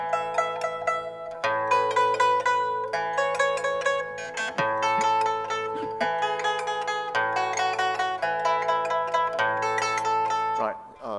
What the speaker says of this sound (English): with every stroke of the thumb, instead of plucking the same string, you can pluck another, a different string